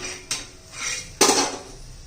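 A spatula flips a pea pancake in a pan, giving two distinct metallic scrapes and clanks about a second apart, close and moderately loud, with a faint sizzle between them.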